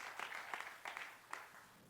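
A church congregation applauding the Lord, with soft, fairly distant clapping that comes in a few uneven bursts and fades away within about two seconds.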